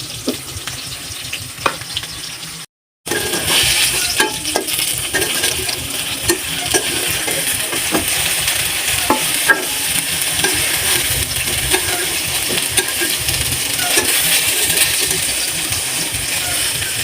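Eggplant and hilsa fish frying in a pan in a home kitchen, a loud, dense, continuous sizzle that cuts out briefly near the start, then carries on steadily with occasional light clinks.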